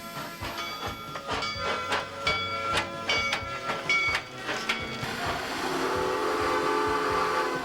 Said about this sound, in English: one of the Transvelt Railway's old-fashioned steam engine trains